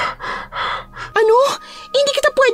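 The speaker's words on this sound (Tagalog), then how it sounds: "Hinihingal ako." Someone out of breath pants in rapid, rhythmic breathy bursts for about a second during a tense horror drama scene, then a voice starts talking.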